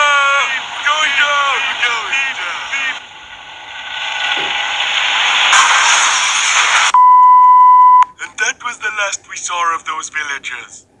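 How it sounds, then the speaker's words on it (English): A steady electronic missile warning tone sounds briefly among video game effects, with mechanical whirring and a voice talking before and after. "Beep, beep, beep, beep. Missile inbound."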